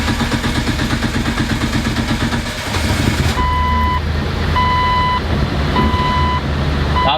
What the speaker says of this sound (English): I'll show you this startup, and hopefully it sounds a little bit different and less exhaust leaky